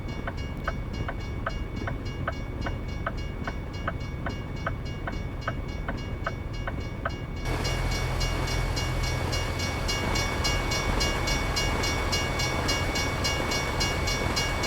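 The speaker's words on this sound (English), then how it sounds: "Wow, you can hear it going over the points and all." Train from a railway video game rolling at speed over points, a steady rumbling run with regular clicking beats in the first half, then a louder, denser roar of wheels and track noise continuing throughout.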